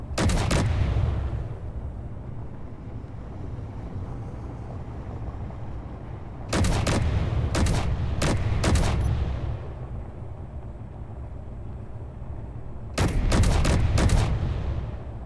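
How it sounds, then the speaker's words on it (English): Video game gunfire in Escape from Mars comes in several clustered volleys of rapid, loud shots over a constant rumbling background, with quieter gaps between the bursts and no talking. "I don't know what they're shooting at, but they're shooting at something."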